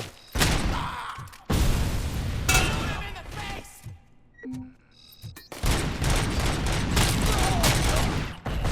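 Gunfire in Robocop: Rogue City comes in loud bursts of rapid shots and booms, broken by a short quieter gap with a few small mechanical sounds, then resuming in a long dense volley.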